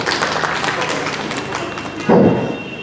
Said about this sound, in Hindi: तालियों के साथ अभिनंदन।